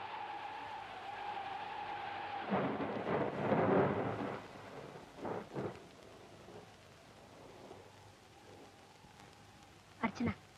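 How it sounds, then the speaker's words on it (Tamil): A thunderstorm in a film scene, with heavy rumbling bursts of thunder over steady wind and rain noise and a few sharper cracks near the end. "வெளியே காத்து அதிகமா இருக்கு, மழையும் பெய்யுது."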